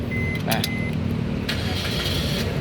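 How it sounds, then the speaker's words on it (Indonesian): Suzuki Ertiga 1.4 GX automatic from 2016 starting up, a short cranking burst followed by a steady idle hum with faint clicks and whirs close by, no talk over it. "berikutnya kita coba nyalakan mobil ya"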